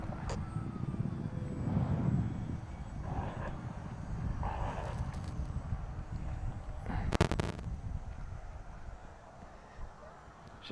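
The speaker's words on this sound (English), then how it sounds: "She's a pretty fun flying plane." An FMS MXS V2 1100mm three-cell electric RC plane flies overhead, its engine buzz rising and falling as it passes at a distance, with a few sharp clicks and bursts of wind noise.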